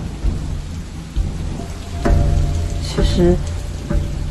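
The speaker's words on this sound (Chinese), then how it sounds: "雷电交加的晚上" Heavy rain hisses steadily through a stormy night while thunder cracks and rumbles in bursts, loud and close, with a brief voice speaking over the downpour.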